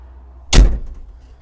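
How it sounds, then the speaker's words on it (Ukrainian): A single solid thud of the cab door shutting on a Mitsubishi MT-265 Japanese mini tractor, sharp and close, followed by a brief low rumble fading into quiet. "Закриваємо дверки."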